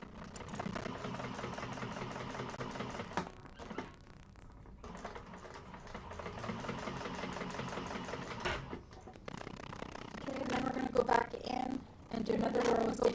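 A sewing machine stitches a seam on a bag with a steady mechanical whir, running in long bursts broken by a couple of short pauses.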